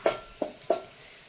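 Curry leaves are dropped into hot oil as tempering for a Konkan crab curry, giving three quick sharp spits and crackles about a third of a second apart that fade into a faint sizzle.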